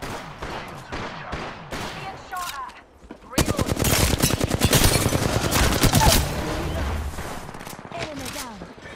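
Automatic gunfire in a shooter video game, a dense sustained burst of rapid shots that erupts loudly after a few seconds of quieter game sounds and voice lines, then tapers into scattered noise.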